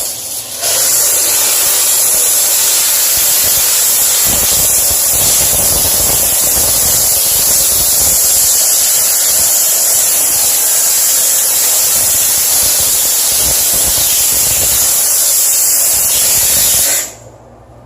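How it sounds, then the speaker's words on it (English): A pressurized steam cleaner sprays a bathroom mirror in a loud, continuous hiss lasting well over fifteen seconds before cutting off abruptly. "First you spray it with the pressurized steam head."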